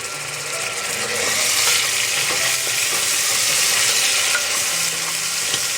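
Minced garlic sizzles steadily in hot oil while being stirred, a continuous bright frying hiss with scraping stir strokes, close and fairly loud with no talking.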